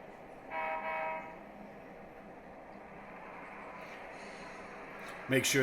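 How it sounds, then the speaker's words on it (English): Model train on a MoPac 20th Street switching layout pushing a caboose past trackside industries, a low steady rolling hum with a brief tonal horn-like burst early on and a sharp clatter near the end. "we're going to push the caboose past the industries"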